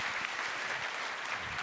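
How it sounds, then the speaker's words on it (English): Audience applause for panelists at an international finance and investment summit: steady, dense clapping from a seated crowd heard at moderate distance throughout, with no voices. "Please join me to give panelists a round of applause."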